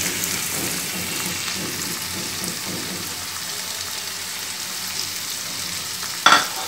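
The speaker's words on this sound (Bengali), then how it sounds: "এবারে আমরা মশলাগুলো সব একসাথে দিয়ে দেব।" Spices added to boiled vegetables for a vegetable biryani, frying and being stirred in a pan with a steady soft sizzle and faint scraping, ending in a short bright clink.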